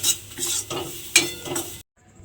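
A spatula scrapes and stirs a pointed gourd peel dish with mustard oil in a pan, making several close, rough swishing strokes with a sharp clack near the end before the sound cuts to near silence.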